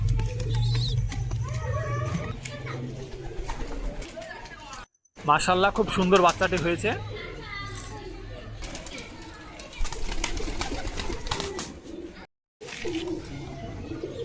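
Pigeons of several fancy breeds coo softly and shuffle in their loft, with a burst of wing flapping partway through. Everything sits close and at moderate volume, while someone speaks over much of it.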